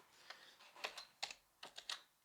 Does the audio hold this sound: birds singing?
no